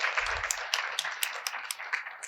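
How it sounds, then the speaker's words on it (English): Brief scattered applause from a conference audience at a sustainability session on net-zero energy, with light uneven claps at moderate distance. "Can we give a round of applause to Tim, please?"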